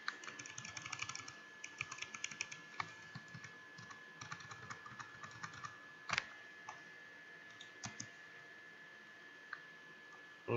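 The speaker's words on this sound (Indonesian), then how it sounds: "Saya ketik ulang." Typing on a computer keyboard while entering a regular expression into a Google Form, with irregular bursts of close key clicks and a few louder isolated taps across a quiet background.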